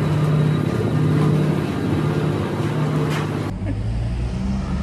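Vehicles rolling off the ferry at Calais, a continuous engine rumble and hum of traffic at moderate distance that abruptly drops to a lower, quieter drone near the end, with no speech.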